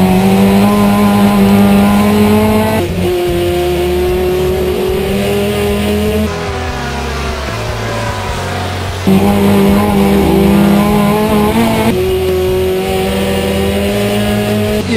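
Gold Turismo touring race cars at Guaporé, loud onboard engine howl rising through the gears with sharp shifts between revving stretches, no talk.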